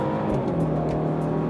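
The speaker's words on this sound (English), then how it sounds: "it's actually got quite an endearing note for a 4-pot engine" A BMW 330i with a four-cylinder engine accelerates hard, its steady throaty drone building continuously, loud and close throughout with no voices over it.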